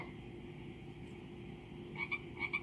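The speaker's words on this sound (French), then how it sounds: "La grenouille." A frog croaks twice near the end, each a short paired chirping call over a steady low background hum.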